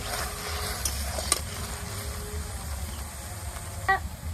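Sugar syrup boiling in a pan for a sweet made with palm fruit, a soft steady bubbling hiss with a few faint clinks, quiet and close, with no one talking.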